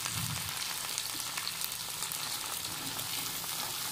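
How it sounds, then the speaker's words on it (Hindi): Okra frying in hot oil in a pan gives a steady, dense sizzle that crackles on its own without a break, close and fairly soft. "जैसे गरम ऑयल में मैंने भिंडी को डाला, भिंडी की लेस खत्म होना शुरू हो गई।"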